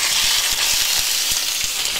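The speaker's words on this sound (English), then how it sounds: "Now let's just put the steak in," Venison steak sizzles loudly in a hot pan over medium heat, a constant close crackling fry with small spattering pops throughout.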